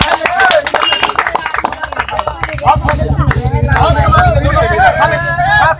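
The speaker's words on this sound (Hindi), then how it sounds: "बस ताली मारिए, ताली मारिए, ताली मारिए।" A crowd claps in quick, steady rhythm at a street magic show, loud and close amid chatter and babble from onlookers, continuing for several seconds.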